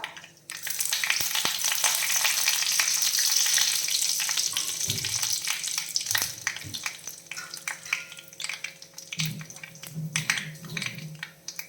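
Hot oil sizzles loudly and steadily as curry leaves and mustard seeds go into a pan for a Kerala-style bitter gourd curry. The frying crackle is strongest early, then settles into softer spitting with a few light stirring knocks.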